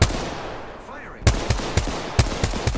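Rapid bursts of video game gunfire on a PS4 shooter, loud and close, with a sweeping whoosh near the start followed by repeated sharp shot volleys in an uneven rhythm.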